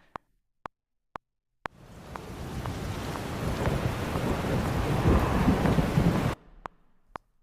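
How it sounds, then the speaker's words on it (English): Storm sounds played back in Logic Pro X: a few sharp clicks, then a sustained wash of heavy rain with low thunder rumbling beneath, cutting off abruptly before more clicks. "Ooh, some storm sounds."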